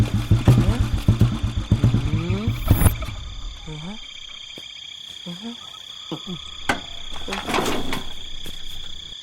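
A motorcycle engine with a punctured tyre in a forest sputters and revs in rapid uneven pulses before cutting out. Frog and insect calls and scattered voices follow.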